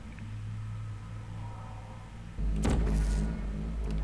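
Portal gun from the video game Portal firing a single loud whooshing energy shot that swells at mid-clip and lingers with a low rumbling tail, following a steady quiet hum, with no talking.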